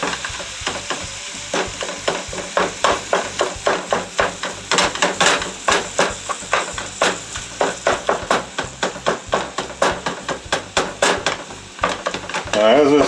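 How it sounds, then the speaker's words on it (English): Ground beef (hamburger) sizzling and frying in a pan for creamed beef gravy, with a slotted spatula repeatedly scraping and chopping it into smaller pieces in a steady rhythm of clicks and scrapes; a voice talks intermittently. "Now, as this cooks, we're going to continually be breaking this down, this hamburger down, into smaller pieces."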